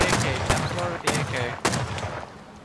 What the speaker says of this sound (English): They're shooting, they're shooting again.